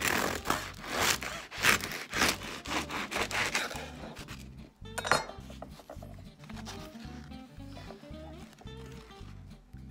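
A knife saws through a warm loaf of homemade bread made with T55 flour, its crusty exterior giving steady, rhythmic rasping strokes that are loud and close, then slow into softer scraping cuts.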